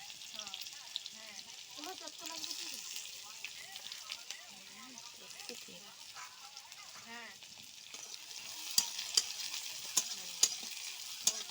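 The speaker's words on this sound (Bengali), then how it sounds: "পেঁয়াজ দিচ্ছি বৌদি সেটা পেঁয়াজ লাড়ব" Onion with cumin being stirred and fried in a pan, a soft sizzle under quiet talk, with sharper clinks and scrapes of stirring toward the end.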